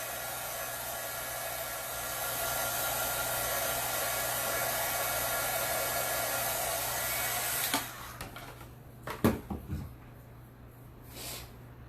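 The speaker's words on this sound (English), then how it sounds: "Put it with the heat tool or your hair dryer." A hair dryer blows with a steady, loud whoosh for several seconds, then switches off, leaving a few soft knocks and rustles.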